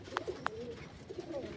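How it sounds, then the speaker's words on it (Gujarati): Pigeons in a pigeon loft give soft, low cooing calls near the recording point, with two short sharper notes early on, all faint over a quiet background. "આ બાજુ તો બીજા કબૂતર બેઠા છે"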